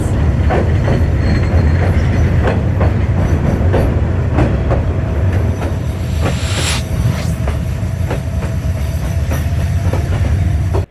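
The Burimari Express rolls along rails from Dhaka to Patgram, a loud steady rumble with rhythmic wheel clacks and a brief squeal, heard close from inside the moving train.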